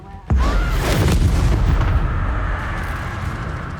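Incendio fire spell blast in the video game Hogwarts Legacy, a sudden loud boom that hits hard and trails off into a sustained roaring rumble.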